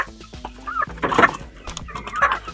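Five young male chicks feeding cluck and chirp in short, close, overlapping bursts, with soft pecking in between and no talk.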